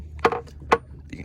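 Two sharp knocks on the transom of a 1988 Wellcraft V20 Open center console fiberglass boat hull, each a short hollow thud about half a second apart, followed by a fainter third tap.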